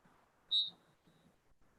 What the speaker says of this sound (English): Final whistle.